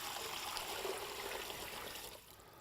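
Water pours steadily into a NuWave cooker, 2.5 quarts going in on the sear setting, a continuous close splashing rush that eases off near the end, with no talking.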